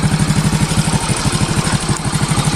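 A 2010 Hero Passion Pro motorcycle engine idles up close, a steady rapid low putter with even pulsing beats for a few seconds and no voices.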